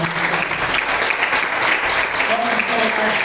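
A church congregation claps steadily throughout during a worship service, a continuous wash of applause with faint voices underneath.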